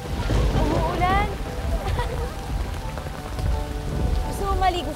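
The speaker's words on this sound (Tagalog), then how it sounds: "Umuulan!" Steady rain pours down on a surface with a continuous broadband hiss, with voices and a brief rising whistle-like tone over it during a downpour.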